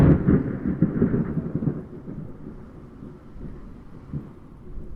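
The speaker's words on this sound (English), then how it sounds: "the storm's approaching, so we should go indoors before we get drenched" Deep, rolling thunder from an approaching storm rumbles loudly at first, then eases into a lower, sustained grumble with a brief swell near the end, alone without voices.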